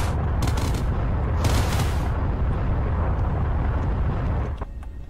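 Rapid bursts of weapons fire from an enemy fighter strike a player's spaceship in the space-combat game Everspace, loud sustained blasts and crackling impacts that fade slightly near the end.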